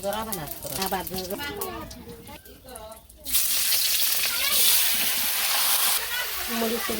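Onion, garlic and ginger paste with turmeric and salt hits hot oil for a raw jackfruit curry, bursting into a loud, sustained sizzle halfway through after a stretch of talking, with a voice returning briefly near the end.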